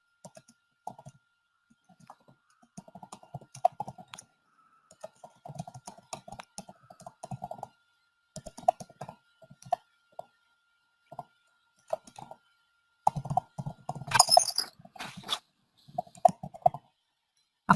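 Someone types on a computer keyboard in a quiet room, producing sparse, fairly faint bursts of rapid key clicks broken by short pauses.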